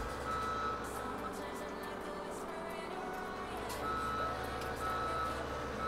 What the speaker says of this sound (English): Back the log truck down here.